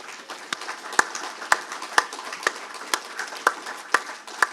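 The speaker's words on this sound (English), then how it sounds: "please stand up while we give you a round of applause." Audience at an organisation event giving a round of applause, heard as sparse, separate handclaps at an uneven rhythm rather than a dense ovation, moderately close.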